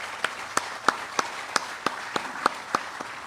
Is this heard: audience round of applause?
yes